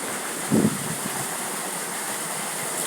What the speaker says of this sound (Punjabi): ਆਪਣਾ ਇੰਜਣ ਪਿਆ ਪੱਠੇ ਕੁਤਰਨ ਵਾਲਾ ਇੰਜਣ ਆ